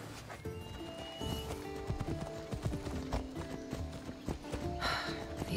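Horse hooves clip-clop at a steady riding pace in Assassin's Creed Odyssey, the repeated thuds clear and close over a low game soundscape, with a brief whinny-like burst near the end.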